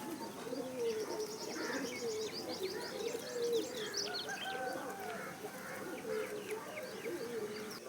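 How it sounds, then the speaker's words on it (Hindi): Pigeons cooing near a nest, several birds giving repeated low throaty coos that overlap with faint chirps over a steady background, at moderate distance. "ये सब कबूतर आ जाओ आ जाओ आ जाओ।"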